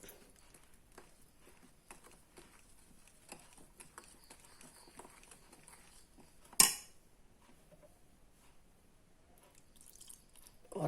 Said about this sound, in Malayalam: ഒഴിച്ച് നമ്മൾ വീണ്ടും നന്നായിട്ട് ഇളക്കണം